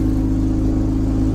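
Loud, steady engine drone from a car with a 1JZ engine, a dense low harmonic hum holding constant, close and alone with no voices over it.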